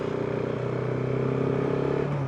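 A tractor clearing snow drones close by with a steady, throbbing engine note and some clatter, continuous and fairly loud with no talking.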